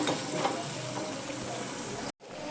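Steady, dense sizzling of onions and spices sautéing in a pan for Indian laddu urundai kuzhambu, loud and close, with a brief cut-out near the end before the hiss resumes.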